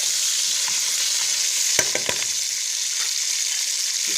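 Spices for Algerian olive tajine frying in a pan, a steady close hiss of sizzling oil with a few sharp clinks of stirring in the middle, and no voices.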